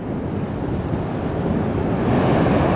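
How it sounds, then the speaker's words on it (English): Large ocean waves break and roll continuously on a deserted Philippine island shore as a storm brews, a loud, steady wash of surf mixed with wind buffeting the microphone, with no voices. "Big waves over there."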